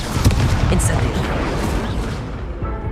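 Incendio fire spell cast in Hogwarts Legacy: a loud roaring burst of flame with rumbling blasts that swells and then slowly fades out, with a voice speaking over it.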